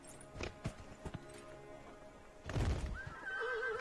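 Horse whinnying in the video game Dragon Age Inquisition, with a couple of hoof clops and a loud neigh near the end, faint and alone without speech.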